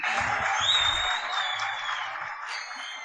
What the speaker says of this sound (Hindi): आप सबकी भरपूर तालियों में, हमने जितनी तारीफ़ें की हैं उतनी तालियां मिलनी चाहिए